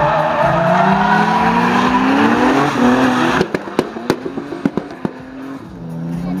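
Drift cars at a 2010 qualifying round rev loudly and skid past with rising engine whine and tyre squeal, then sharp popping cracks and bangs ring out in quick succession.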